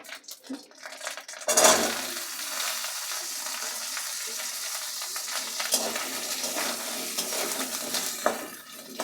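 Pumpkin and ginger paste sizzle steadily in a hot pan for pui shaak chochhori while a utensil stirs and scrapes them in irregular strokes, with a louder clatter near the start.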